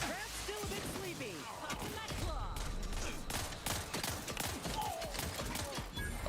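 Gunfire striking the player character in The Outer Worlds 2, a dense run of sharp shots and impacts layered over game music and effects, steady and loud throughout.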